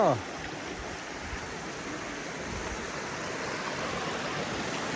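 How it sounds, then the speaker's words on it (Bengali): Rainwater rushing down a waterfall stream makes a dense, steady roar that carries on without a break, loud and close, after a short tone at the very start. "পানির যে স্রোত ধারা"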